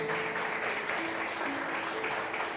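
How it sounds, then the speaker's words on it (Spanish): A church congregation breaks into steady applause, many hands clapping together in a full, continuous wash, with a faint voice briefly heard beneath it. "Denle un fuerte aplauso al Señor."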